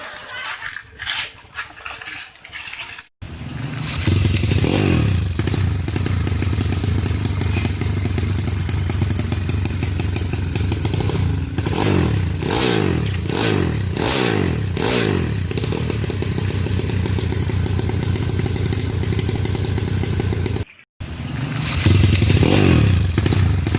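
A motorcycle engine roars loudly and revs up and down in rising and falling sweeps, with a short break before the noise returns.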